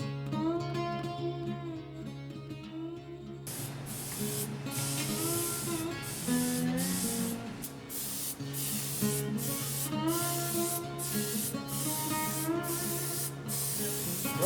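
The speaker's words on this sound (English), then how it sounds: "Right now we're spraying on a stabilized pigment part of the patina" Stabilized pigment patina sprayed onto a bronze statue in a foundry, a steady hissing spray running nearly throughout at moderate level, with background music underneath and some softer rubbing texture.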